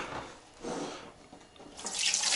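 Tap water runs into a pot for steaming fish, a steady splashing pour that swells and eases, then grows brighter and louder near the end, close by with no talk.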